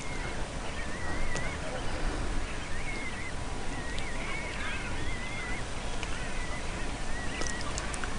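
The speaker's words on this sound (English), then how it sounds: "it's a real bonus to be able to photograph shags at this range" A colony of European shags on the Farne Islands calls with harsh, croaking notes over constant wind and sea noise, the birds heard at close range.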